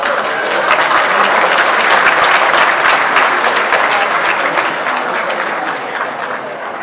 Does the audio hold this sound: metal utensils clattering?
no